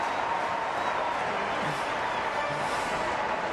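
A stadium crowd roars after a goal at an AFL match between Gold Coast and Essendon, a dense, steady wash of cheering and clapping that holds at full level throughout.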